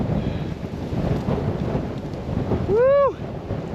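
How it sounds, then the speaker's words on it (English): Strong wind blows through a sandstone canyon in Coyote Gulch, a loud steady rushing roar buffeting the microphone, with a brief rising-and-falling whoop of a voice near the end. "Listen to that wind."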